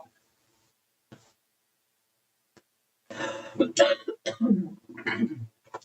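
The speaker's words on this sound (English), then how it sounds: "Sorry, guys, for coughing so much." A few faint, isolated coughs at first, followed by a person talking close to the microphone.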